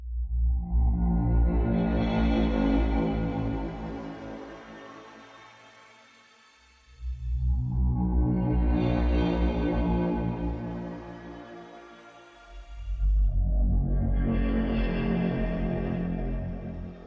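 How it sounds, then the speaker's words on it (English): Pigments 4 synthesizer tones drenched in shimmer reverb with the feedback raised, three swelling sustained notes each trailing a long rising, glistening tail that fades before the next loud entry, with no speech. "if I turn up the feedback, you can hear this like tail that is like rising, and this is the Shimmer reverb"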